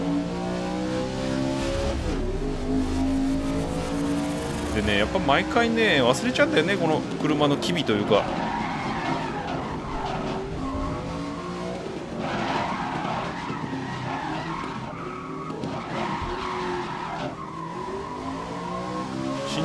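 A pickup truck in the racing game GRID 2019 skids repeatedly, tires squealing over a steady engine drone while someone talks throughout.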